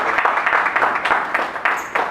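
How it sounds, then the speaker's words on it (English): An audience applauds panel speakers with a brief, moderately loud burst of steady clapping from a roomful of people. "Can we give them a round of applause?"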